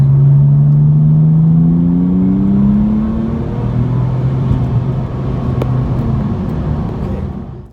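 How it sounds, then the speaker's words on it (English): Porsche 996 Turbo with a stage 1 tuned ECU pulling hard in third gear, a loud close engine note climbing steadily in pitch for about three seconds, then dropping to a lower drone after the shift before fading out. "Here's a 3rd gear pull, RPMs and boost."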